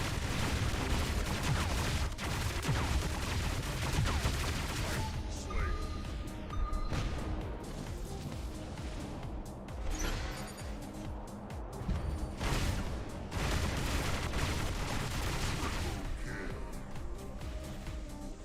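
Robot weapons firing in the War Robots video game, dense sustained bursts of gunfire and heavy impacts that run almost continuously, with a few short dips, under a voice talking.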